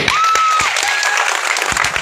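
Audience applause at a Bhil community foundation ceremony, loud, dense clapping from a crowd filling the whole two seconds, with a faint voice and a whistle-like tone over it.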